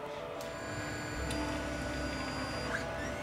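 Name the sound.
Anycubic i3 Mega 3D printer printing parts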